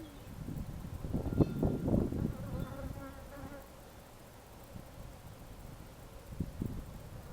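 Honey bees buzzing around an open hive frame while someone searches for the queen, a dense, close insect drone with louder swells early on and a steadier hum afterwards.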